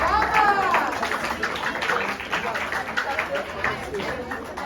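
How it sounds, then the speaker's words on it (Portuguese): A crowd claps together at a class session, a dense, steady patter of many hands that fades slightly toward the end, with people talking and calling out over it. "Palmas do povo!"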